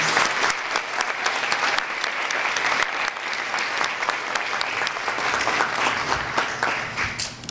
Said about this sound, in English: let's have one more round of applause for our seventh grade inductees